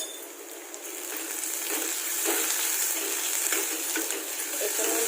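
Ginger-garlic paste fries in a pan of oil for a fish dish, a continuous bright crackling sizzle with faint clinks of a spoon, no talking.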